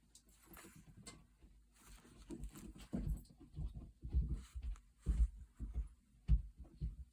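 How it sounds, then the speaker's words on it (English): A dog eating its breakfast nearby, with soft irregular chewing, crunching and licking sounds in scattered bursts over a quiet room. "The dog's getting fed."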